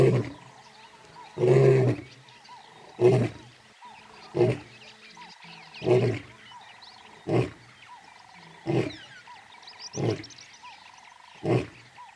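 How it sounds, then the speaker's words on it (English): A male lion bellows a series of about nine deep roars, the first few long and powerful and the later ones shorter, each separated by a pause of a second or so, loud and near in open wild country. "He announces his presence with a bellowing roar, which can be heard for up to 8 kilometers."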